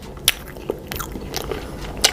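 Biting into a brain-shaped Halloween cake with strawberry jam, a few soft crunchy bites and chewing sounds close up, with no talk.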